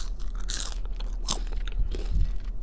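Crunchy french fries are bitten and chewed close up, giving a series of sharp, crisp crunches in an irregular rhythm over a low hum, with no talking.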